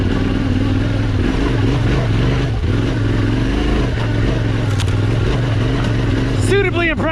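A Yamaha Tenere 700 adventure motorcycle being ridden, its engine droning steadily and close throughout with gravelly clatter and wind rush, and a voice speaking over it.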